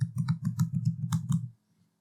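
Quick run of about eight or nine keystrokes on a computer keyboard, tapped close and evenly over a second and a half, then stopping into silence.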